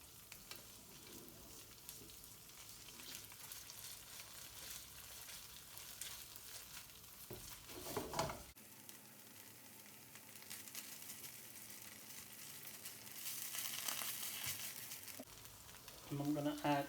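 A curry mixture sizzles in a pan over medium heat while being stirred, giving a steady close frying hiss broken by bursts of scraping and stirring.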